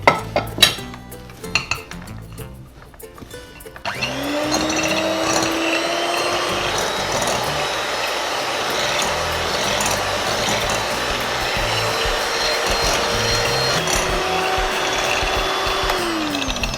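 Egg whites are whisked in a clean bowl with a steady, rapid metallic whirring that starts after a few seconds of clatter and handling and carries on evenly throughout.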